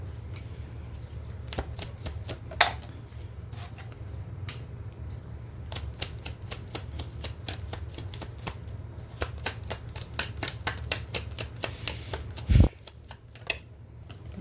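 Tarot cards being shuffled by hand, a long string of quick, close, crisp riffling flicks over a low steady background hum, with no speech during the shuffle.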